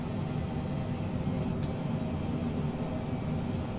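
A Phenom 100 light jet cruising in Microsoft Flight Simulator 2020 gives a steady, dense engine and air rush that holds constant throughout with no talking.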